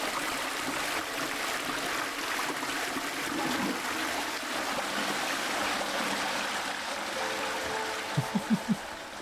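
Continuous trickling water flows evenly throughout, and a short series of soft tonal blips appears near the end.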